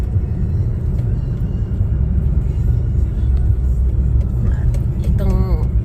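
Steady low rumble of a car engine and road noise from inside a moving vehicle, continuous throughout, with a voice speaking over it near the end.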